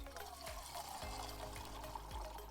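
Water pours steadily from a tap into a cooking pot, a soft continuous trickle with a low hum underneath and no voices.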